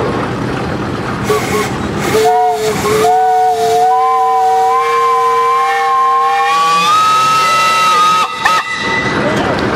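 A steam engine's whistle at a steam threshers show in Darke County blows one long, loud, shrill tone that rises slightly in pitch and holds steady, with hissing steam around it.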